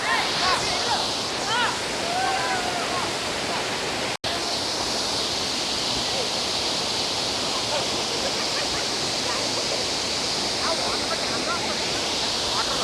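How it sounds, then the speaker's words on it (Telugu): Sariya waterfall near Devarapalli and Vaalabu village pours in a steady, loud broadband roar of falling water that runs throughout, with a brief dropout partway. "సూపర్ వాటర్ఫాల్ అని చెప్పుకోవచ్చు"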